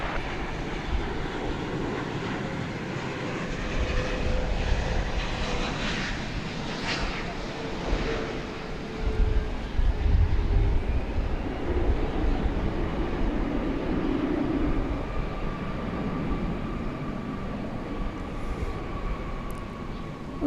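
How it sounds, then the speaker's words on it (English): An American Airlines Boeing 777-300ER arriving from London Heathrow lands at DFW Airport at night, giving a low, rumbling jet roar that swells in the middle and then eases off, with faint talk in the background. "American Flight 81 from London Heathrow and 777-300ER is coming in now."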